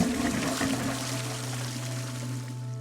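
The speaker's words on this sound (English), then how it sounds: "we dispose of enough drinking water to flush a toilet 7 times." A toilet flushes with a steady rush of water and a low, sustained drone. The sound is moderately loud and fades slightly toward the end, with no voices.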